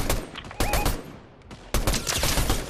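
Video game gunfire crackles in bursts, with a dense volley early on and another sustained stretch of shots toward the end, fairly close and loud, with a brief lull between.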